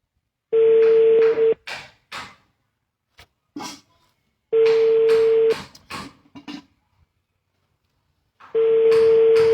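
A telephone call rings out with a steady ringback tone, three roughly one-second bursts spaced a few seconds apart, while voices talk in the gaps between them.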